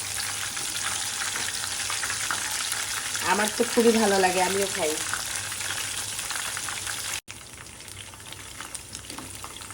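Laitta (Bombay duck) fish frying in hot oil gives a steady crackling sizzle close by, while someone speaks briefly over it partway through.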